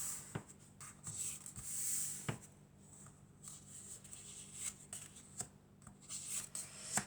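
Tarot cards shuffled by hand in quiet, close, faint riffles and soft slaps with brief papery flicks and taps, no talking.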